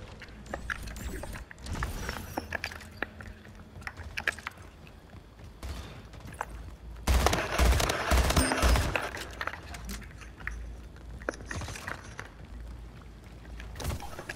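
Gunfire in the video game Splitgate comes in scattered sharp bursts of shots and mechanical clicks, with a dense, louder flurry of rapid fire in the middle, set against quiet game ambience.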